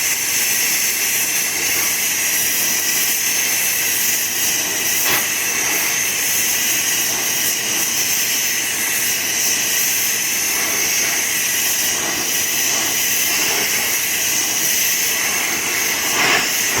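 A torch heating the outer metal piece of a custom tonneau cover for a 1959 GMC truck produces a loud, continuous roaring hiss that stays steady throughout, with no talking.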